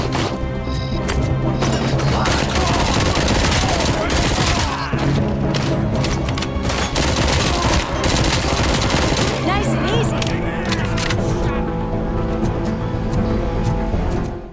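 Rapid gunfire crackles almost without a break in the RoboCop: Rogue City video game, loud and close. Bursts of automatic fire and sharp impacts pile up, with brief gaps between volleys.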